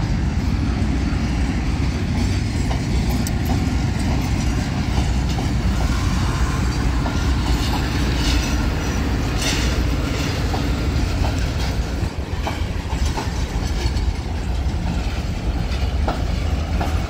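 A train bound for Karachi from Sialkot rumbles past close by at Lahore Railway Station, a steady heavy roar of wheels on the rails with faint clattering, continuous for the whole stretch.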